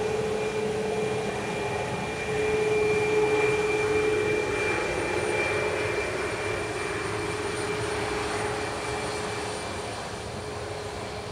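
A jet airliner roars on the runway at Dublin Airport, a continuous loud engine drone with a whining tone that swells slightly and then eases off, heard without talk.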